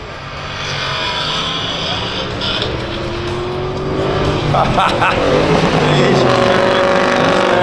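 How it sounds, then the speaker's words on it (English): Drag racing cars launching at a Sunshine Coast strip, including a red Mustang, with a loud engine roar that builds and rises in pitch as they accelerate away, under a commentator's voice. "You'll see a very clear 1 second head start for the red Mustang, and will Hot Rod Hoots catch him"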